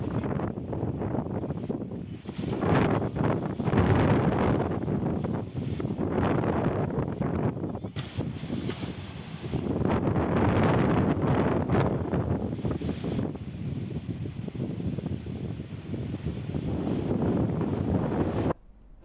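Strong wind gusts through the Varusanadu hill area, where it snaps papaya trees, with a heavy, surging roar buffeting the microphone in long waves.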